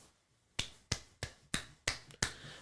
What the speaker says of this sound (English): I was able to clap with my hands